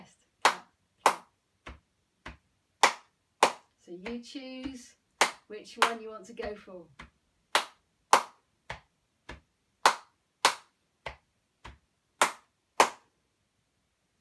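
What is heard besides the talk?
body percussion rhythm of hand claps and chest pats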